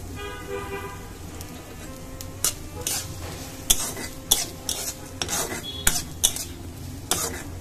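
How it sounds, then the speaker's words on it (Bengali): Chilli and onion fry in a pan over a weak gas flame, with a low sizzle under repeated sharp clanks and scrapes of a spatula against the metal. "একটু মরিচ পেঁয়াজ ভেজে নেব"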